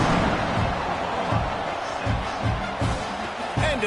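A stadium crowd at a Texas A&M versus Oklahoma college football game keeps up a steady, dense roar with rhythmic pulses of cheering, loud and continuous throughout.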